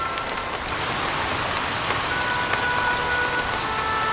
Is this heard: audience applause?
no